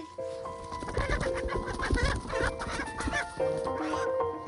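Native Korean chickens cluck and squawk in agitated bursts while being chased on a rural farm, with layered close calls overlapping throughout and no talking.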